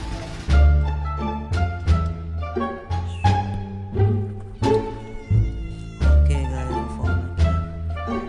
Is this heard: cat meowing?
yes